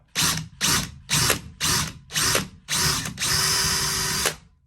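Power drill driving screws while a closet system is installed: six short bursts of whirring in a steady rhythm, then one longer continuous run, close and loud with no talk.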